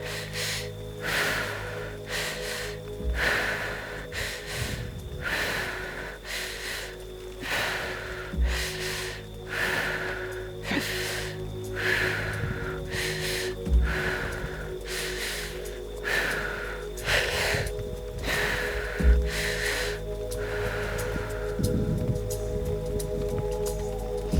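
Slow deep breathing during a core workout, with about a dozen regular inhale-exhale cycles close to the microphone, steady and rhythmic with no talking.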